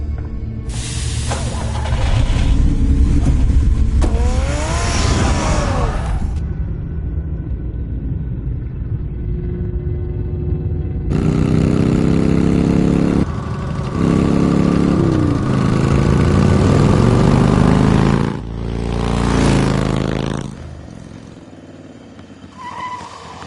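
A car engine in a Batman video game, a loud, steady rumbling motor that idles and revs in long sustained stretches, with shifting pitch sweeps and brief drops in between.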